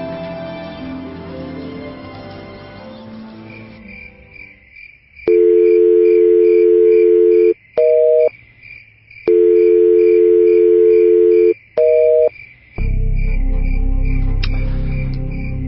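Tones on a phone line when calling a switched-off phone: steady beeps in long and short bursts, a network unavailable signal, with muffled background noise before and after.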